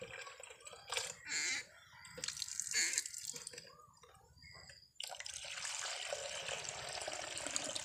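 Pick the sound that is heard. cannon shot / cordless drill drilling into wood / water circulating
water circulating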